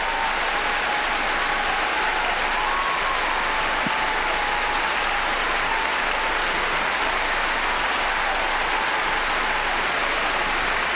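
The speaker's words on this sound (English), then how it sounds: "Standing ovation." A standing ovation fills a large arena at a 2007 World Cup match, with dense, steady applause sustained evenly throughout and no pauses.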